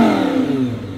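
A V10 supercar engine revs once, a loud, close roar that falls away in pitch over about a second.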